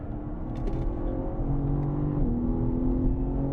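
A BMW M car on track at Sonoma Raceway gives a steady, sustained engine drone that rises and shifts pitch as it accelerates, continuous and fairly close, with no talk.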